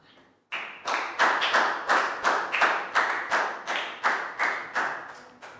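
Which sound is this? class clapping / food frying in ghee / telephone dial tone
class clapping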